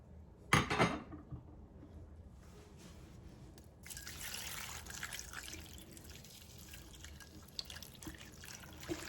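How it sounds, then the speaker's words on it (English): Water splashes into a pan holding seasoned beef for a London broil, a short burst of pouring followed by quieter trickling and liquid movement, faint and close with no talk. "So we're going to go in with some water."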